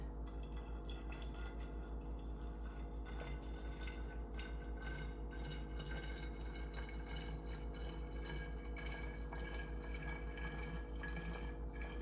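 Alcohol poured into a jar of vanilla beans for homemade extract, a quiet continuous trickling liquid sound with faint drips and glassy resonance throughout.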